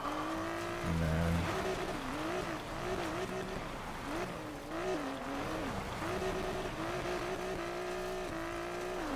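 Race cars in Need for Speed Payback, engines droning and revving with wavering pitch as the car shifts and accelerates, a continuous game soundtrack that includes a brief low thump near the start.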